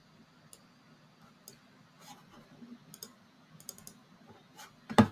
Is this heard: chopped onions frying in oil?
no